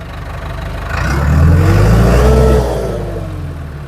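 A vehicle engine idles, then revs up for about a second and a half while pulling down a dead tree in a driveway, before settling back to a steady idle.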